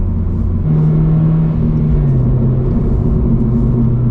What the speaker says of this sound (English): you only clutch in for a brief moment just to change gears and blip the throttle